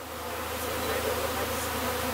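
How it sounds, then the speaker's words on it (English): A swarm of honeybees moving into a new hive made from a barrel, giving off a close, steady, continuous buzzing hum with no voices. "now the bees are marching in into their new home"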